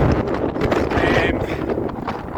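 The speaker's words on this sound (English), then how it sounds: "As you can hear, the wind's pretty crazy." Strong wind roars across a mountainside on the climb to Ben Lui, a loud, gusty buffeting rumble throughout with someone talking over it.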